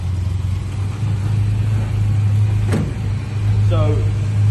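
A 1972 Jaguar E-Type engine idles with a steady, close, low drone that holds evenly, with a brief sharp transient partway through.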